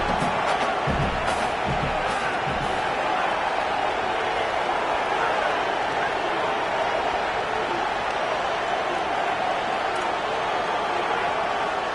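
Steady, loud roar of a stadium crowd at a college football game between Georgia and Ole Miss, sustained throughout with bursts of cheering and talk mixed in.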